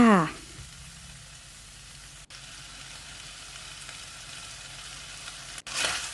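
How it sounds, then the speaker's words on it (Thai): Steady sizzling from a hot pan as pork and chopped spring onion and chilies are stir-fried, with a brief burst of voice at the start and faint scraping of stirring throughout. "จากนั้นก็ผัดต่อค่ะ"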